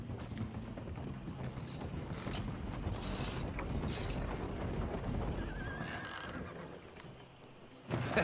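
Horse hooves clip-clopping in Red Dead Redemption 2, steady trotting under a horse's neigh and whinny, with creaking wagon mechanisms and pulleys nearby and a louder hoof burst at the end.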